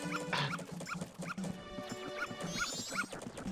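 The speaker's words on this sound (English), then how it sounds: "Dogs are scary." Dogs barking in the Legend of Zelda: Majora's Mask video game, a string of short yips and barks repeating every half second or so over steady game music, with a bright rising chime near the end.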